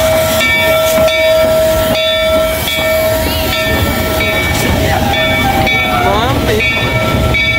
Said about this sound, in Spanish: Los Silva Rocks se van en tren.